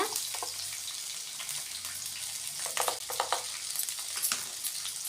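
Spices and sundakkai (turkey berry) sautéing in hot oil for a Tamil kuzhambu, a steady close sizzle with scattered crackles and a few stirring scrapes, no talking.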